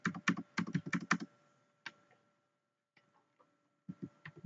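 Typing a password on a computer keyboard: quick close bursts of crisp key clicks, a pause with a couple of isolated taps, then another short flurry.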